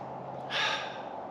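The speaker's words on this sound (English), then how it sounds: "Close your eyes, nice deep breath in" A single deep, airy inhalation taken on a relaxation cue, rising and fading over about half a second, close and clear against a quiet room with no talk.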